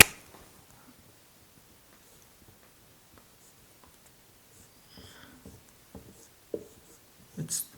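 Pen strokes sketching a face-centered cubic unit cell diagram: faint, scratchy marks in short bursts, getting louder and more frequent toward the end, close and quiet with no voice.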